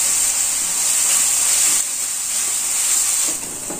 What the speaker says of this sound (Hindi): अनियन और जिंजर गार्लिक का पेस्ट भी लाइट ब्राउन होते तक थोड़ा भूनना है हमें, इसे 4 से 5 मिनट तक भूनना है।